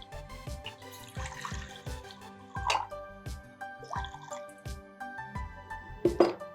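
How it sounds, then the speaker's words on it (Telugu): Water is poured into a pot on a stove, with irregular splashes and drips and a few clinks of the vessel, moderately close, in short bursts without speech. "స్టవ్ ఆన్ చేసేసుకొని వాటర్ వేసుకోండి."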